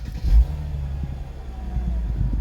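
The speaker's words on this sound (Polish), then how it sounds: "Samochód pali." A Mercedes SL 350 R230 engine idling after a BCM module repair, a steady low rumble with a brief bump early on, close and continuous with no talking.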